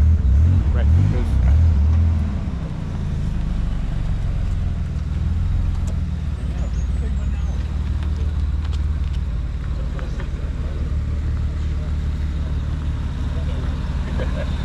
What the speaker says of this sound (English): And another Nissan 300 ZX arriving